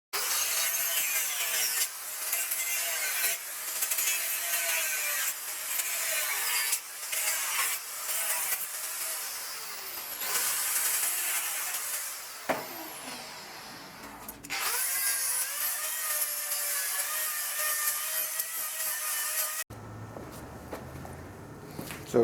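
Metal-cutting tool trimming a steel pulley salvaged from a riding mower, a steady loud grinding, sawing rasp running almost the whole time with brief pauses and a short quieter break near the end.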